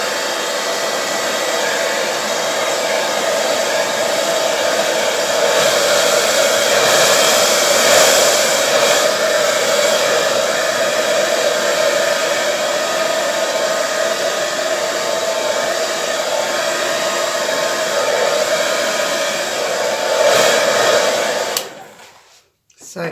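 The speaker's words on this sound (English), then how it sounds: "So I'm just going to blow this out." A hair dryer blows steadily across a wet acrylic Dutch pour painting, a loud close continuous whooshing roar that holds for about twenty seconds before cutting off abruptly.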